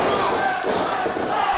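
A wrestling crowd at a Premier Pro Wrestling show roars and chants in a dense, sustained wall of voices filling the arena, with no clear break.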